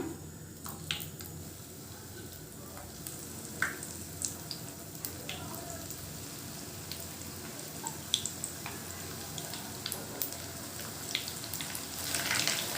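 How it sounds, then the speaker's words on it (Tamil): Apple fritters frying in hot oil for a quick snack, a steady soft sizzle with scattered small pops and crackles running throughout, close by and fairly quiet, with no talking. "இப்போ வந்து இது நம்ம எண்ணெயில் போட்டு பொரிச்சிடலாம்"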